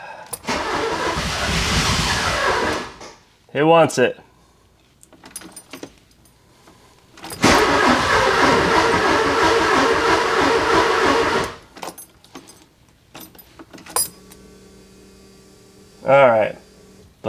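Porsche 944 engine cranking and catching in two long bursts of loud running, each cutting off after a few seconds, with quiet gaps, brief rattles and short speech between.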